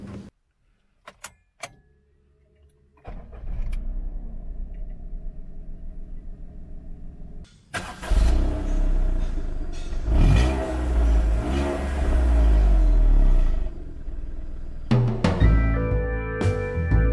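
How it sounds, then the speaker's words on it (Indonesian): A 2015 Suzuki Celerio with a manual gearbox starts and drives off, its engine catching after a few clicks and then revving steadily and strongly, close and loud with no talk. "Coba kita bawa jalan mobil ini."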